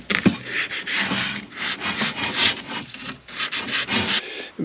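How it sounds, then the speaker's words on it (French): Steel scraper rasping paint off a WWII German M38 Stahlhelm helmet, a run of close, loud scraping strokes in bursts with brief pauses, no talk. "je vais prendre ce grattoir, vous voyez, ce truc là, et je vais tout simplement gratter la peinture"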